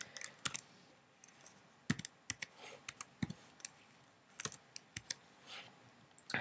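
Quiet, irregular keystrokes tap on a computer keyboard as an IP address is entered on a Mac, with short clicks scattered unevenly and some closer together.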